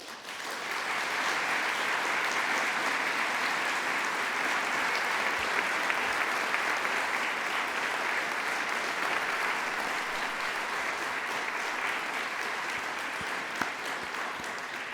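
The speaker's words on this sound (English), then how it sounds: "listen to this welcome applause" Warm welcoming applause fills an award ceremony hall at the Olof Palme Prize, a dense, steady clapping from a large audience that holds loud and even for the whole stretch without pause.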